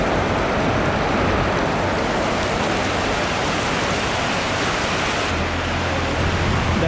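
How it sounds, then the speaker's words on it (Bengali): Heavy rain pouring down on a roadside stop, a dense, constant hiss of falling water that stays loud and even from start to finish, with no voices. "সুবহানাল্লাহ, তো বৃষ্টি নেমে গেছে"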